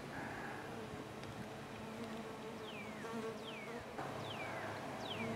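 Honey bees swarm around a gas tank hive fitted with a trap-out cone, making a faint, steady buzzing drone. A few quick descending chirps cut through the hum.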